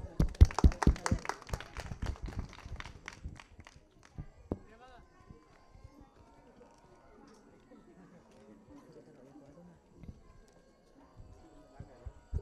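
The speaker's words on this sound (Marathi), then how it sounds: "टाळ्या." Applause from an audience at a Marathi bhajan gathering honouring Gangaram Maharaj, a burst of rapid clapping for a few seconds that fades out, followed by a quiet room and faint speech.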